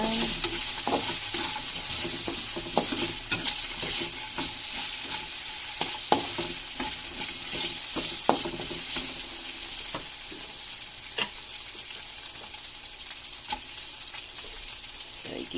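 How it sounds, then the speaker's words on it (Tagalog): Meat sautéing in oil in a pan for Filipino ginisang chayote, a steady close sizzle and crackle with scraping stirs and occasional sharp pops throughout. "So, ikikisa lang muna natin."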